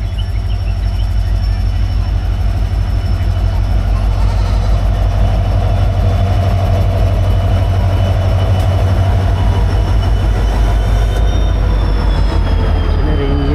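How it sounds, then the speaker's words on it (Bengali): Kanchanjungha Express slowly pulling into Aluabari station near Siliguri, a steady low rumble of the locomotive and rolling coaches with faint wheel squeal, loud and continuous throughout with no talk. "অনেক আস্তে আস্তে আসছে ট্রেনটা। এই আলুয়াবাড়ি ঢুকছে কাঞ্চনজঙ্ঘা।"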